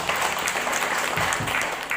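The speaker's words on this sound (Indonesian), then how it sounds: "Tepuk tangan dulu untuk Mas Bapak." A school audience at an Indonesian madrasah gathering gives a hearty burst of applause, dense, steady clapping filling the room for a couple of seconds.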